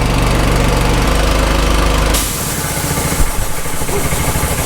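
Gas-powered air compressor running loud and close while filling its tank, a steady engine drone whose tone shifts about halfway through as the load changes, with no voices.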